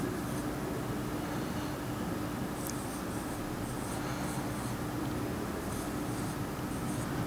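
A marker or chalk writes on a board during an English grammar lesson, making a continuous scratchy rubbing with brief squeaky strokes. The sound is close and steady, and no one speaks.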